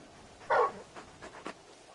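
Torgal, the large dog companion in Final Fantasy XVI, lets out a short whimpering whine followed by a few soft pants and breaths, close and fairly quiet with no talking.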